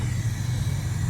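A car drifting at a drift event, heard as a steady, droning engine rumble with a slight pulsing edge, continuous and moderately loud.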